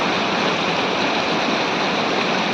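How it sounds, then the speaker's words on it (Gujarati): A waterfall by the Sandhida Mahadev temple sends water pouring down in a constant, loud, broadband rush that continues unbroken throughout. "અહીંયા ધોધ પડી રહ્યા છે"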